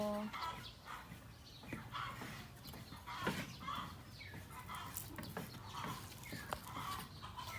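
Chickens cluck outdoors in a rural Thai-Lao village during New Year, with scattered, fairly faint calls against a busy background that may include nearby voices.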